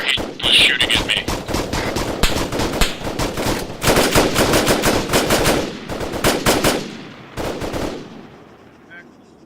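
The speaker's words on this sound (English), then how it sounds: "We are taking small arms fire direct west." Bursts of small arms gunfire crack out during platoon training, rapid overlapping shots in dense volleys that pause and resume over several seconds, loud and close, with brief voices mixed in.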